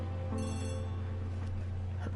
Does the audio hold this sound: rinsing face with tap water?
no